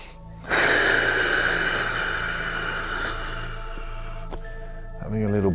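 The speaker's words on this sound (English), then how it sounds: "Breathing." Slow, deep breathing during a qi gong exercise, one long close exhale rushing out for several seconds, followed by a brief voiced sound at the end.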